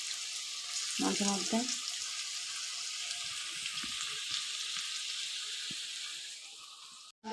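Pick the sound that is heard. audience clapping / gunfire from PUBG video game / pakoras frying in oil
pakoras frying in oil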